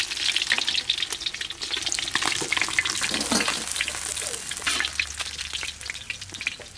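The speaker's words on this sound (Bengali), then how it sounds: "যা আছে এগুলো সব একবারেই ভেজে নেব।" Pieces of silver carp fry in oil with a close, busy sizzle and popping, punctuated by sharp utensil scrapes and spatters, loud and continuous without speech.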